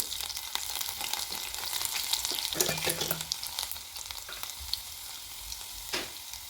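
Mustard seeds and finely chopped garlic sizzling in hot oil, a steady crackling hiss with scattered pops and a few stirring clinks, close by, fading slightly toward the end.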